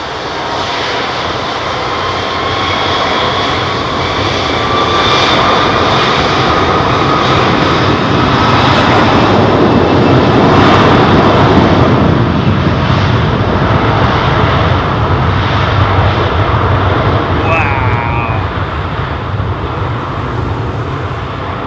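An Airbus A300 jet airliner takes off at London Heathrow, its engines roaring loud and close in a long sustained rumble that swells toward the middle and then holds.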